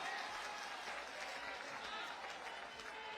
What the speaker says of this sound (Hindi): आप सबसे चाहता हूं समाजवादी पार्टी के राष्ट्रीय अध्यक्ष जी का ताली बजाकर इस मंच पर आप स्वागत